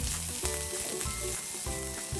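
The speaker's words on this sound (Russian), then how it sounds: "Быстро обжариваем." Bell pepper and leek sizzle steadily in a hot pan while being stir-fried for Kung Pao chicken, a constant loud frying hiss with rhythmic scraping stirs.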